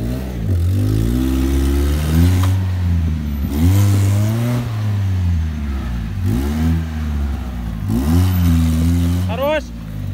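A Suzuki X90 engine revs hard on an off-road course, climbing and dropping in pitch in repeated loud bursts about every two seconds, close and dominant, with the drone easing briefly between pushes.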